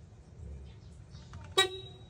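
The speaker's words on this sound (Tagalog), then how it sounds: "Tapos ito yung busina." A Bajaj RE auto rickshaw horn gives one short, bright honk at close range, standing out sharply against a quiet background.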